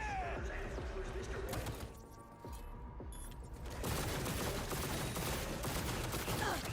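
Rapid bursts of gunfire in a Cyberpunk 2077 firefight, dense and loud throughout with a brief lull midway, mixed with game effects and some voices.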